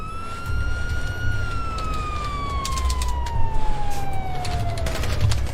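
A police siren in a video game wails steadily with one slowly falling tone over a constant rumble of game noise, carrying on without any talk.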